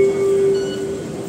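Interior of an MTR subway train in Hong Kong, a steady low rumble with a sustained tonal hum and faint high whine, heard briefly and without speech.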